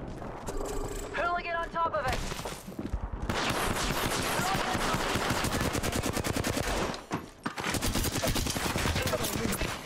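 Rapid automatic gunfire from the video game Apex Legends, with loud, dense bursts of shots that run almost continuously, broken by a brief pause before firing resumes.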